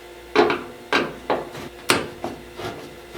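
Screws being worked loose from the front panel of a washing machine that won't drain, heard as six sharp, close knocks and scrapes of a tool on metal and wood at irregular intervals, with no voices.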